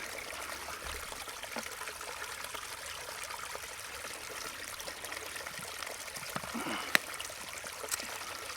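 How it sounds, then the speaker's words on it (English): Water trickles through a filter into a Smartwater bottle on a backpacking trail, making a faint, steady dribble with small irregular splashes and a few soft clicks over several seconds, with no voices. "Water filtered on a smart water bottle."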